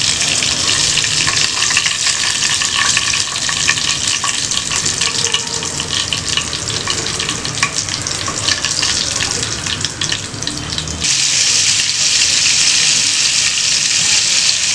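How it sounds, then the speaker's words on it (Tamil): Spicy pepper kola balls frying in hot oil in a home kitchen: a loud, steady sizzle and crackle running throughout, briefly dipping before surging back bright and hissing, with no talk over it. "இப்படி எல்லாத்தையும் வந்து நம்ம பொரிச்சு எடுத்துக்கலாம்."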